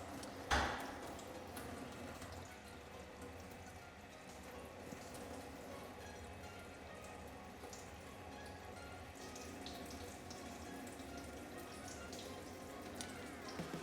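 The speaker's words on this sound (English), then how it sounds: "you can then turn on your water and just make sure there's no leaks or anything like that" A sink tap runs water in a steady, faint splashing stream into the basin, continuous and close, with a small knock near the start.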